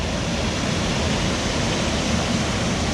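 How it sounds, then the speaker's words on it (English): A creek's rushing water fills the air with a dense, steady broadband roar, close and constant with no breaks or voices. "So if you've been hearing that water rushing"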